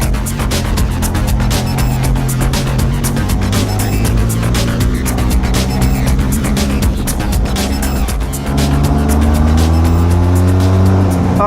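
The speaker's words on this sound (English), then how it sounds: "this exhaust note is nice" A Benelli TRK 502 motorcycle's loud, continuous engine roar with a rising, revving exhaust note, briefly dipping before surging again as the throttle opens up close by.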